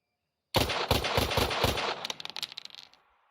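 Automatic gunfire in the video game Valor & Victory, a sudden loud burst of rapid rhythmic shots that breaks into scattered crackling reports and fades out, heard alone after a moment of silence.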